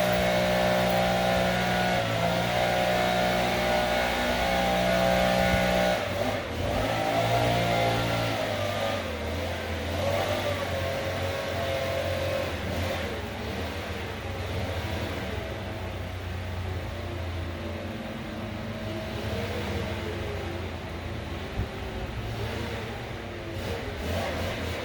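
A screechy car engine revs steadily for the whole stretch, loud and close, its pitch shifting around the midpoint and carrying on with a rough, strained whine.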